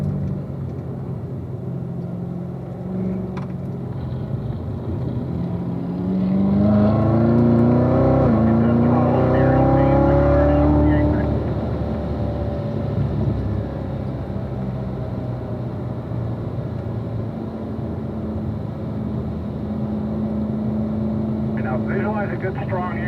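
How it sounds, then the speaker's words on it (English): A race car on a track accelerates out of a corner, its engine rising in pitch through several gears with a swelling rumble before settling. An instructor talks steadily over it. "Get the car turned on the apex now. Start accelerating."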